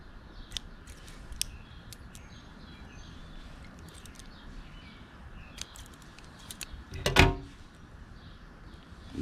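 A fishing line's tag end snipped close after tying a polymer knot, a single crisp snip standing out above quiet rustling, with a few faint clicks earlier on.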